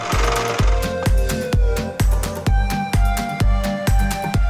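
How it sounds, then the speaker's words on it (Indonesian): A group of people take turns striking a glass bridge in China with hammers, producing loud, sharp, evenly spaced blows, about two per second, with ringing decay between them. "sekelompok orang ini juga bergantian memukuli jembatan kaca tersebut menggunakan palu"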